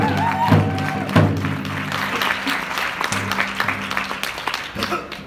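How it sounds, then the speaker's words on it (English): Crowd applause at a traditional dance event honoring a drum group, a broad clapping wash over a low droning tone with scattered thuds, then rising and fading. "Let a round of applause for these drum group"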